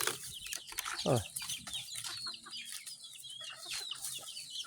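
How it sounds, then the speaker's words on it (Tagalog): Chickens cluck and squawk at close range while being fed, with several short overlapping calls and scattered pecking movement through the whole stretch. "Tinuturuan ko pong magpakain ng mga manok"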